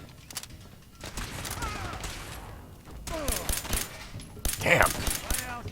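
Bursts of 10mm pistol fire in Fallout 4, several sharp shots in quick succession mixed with game effects and mechanical clatter, moderately loud, while a person talks at times.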